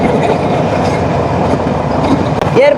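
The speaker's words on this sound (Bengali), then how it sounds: "অলরেডি বনলতা এক্সপ্রেস ট্রেনটি যমুনা রেল সেতুর উপরে উঠে গিয়েছে।" The Banalata Express, a passenger train, rumbles loudly across the Jamuna rail bridge, with steady wheel clatter and a brief rising wheel squeal near the end; no voices.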